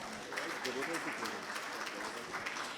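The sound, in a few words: audience applause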